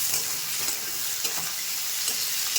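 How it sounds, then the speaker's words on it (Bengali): Onion, garlic and green chilli frying in a pan give a loud, steady, close hiss of sizzling oil, with faint stirring scrapes throughout and no voices. "পেঁয়াজটা একটু ভাজা ভাজা হয়ে গেছে"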